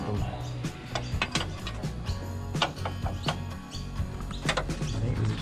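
A ratchet wrench works loose the engine mount bolts on a P6 LTD rally car limo during an engine swap, giving bursts of sharp metallic clicks over a steady low hum in a workshop.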